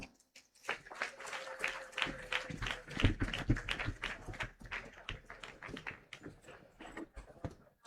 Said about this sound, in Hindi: लेकिन तालियों की गूंज हमारी दीदी के लिए कम थी